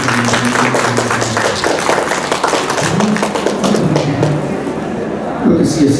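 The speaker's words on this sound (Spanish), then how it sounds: "El aplauso para nuestra autora del día de hoy" An audience at a book presentation applauds the author with steady, dense clapping that holds for several seconds, with voices and someone speaking over it.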